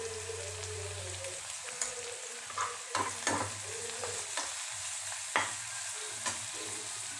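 Chopped big onions and salt tipped into a hot pan, loud crackling sizzle with a low hum, punctuated by several scraping stirs and clatters, close and continuous, no voices.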